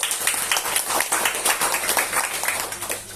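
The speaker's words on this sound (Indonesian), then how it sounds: "Tepuk tangan." Audience clapping at a church anniversary celebration, a steady close patter of hand claps that holds for several seconds without pause.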